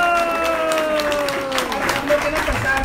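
Devotees at a religious gathering with a Maharaj in Noida applaud, a continuous, fairly loud wash of clapping from a crowd with murmuring voices and some tonal background sound running underneath.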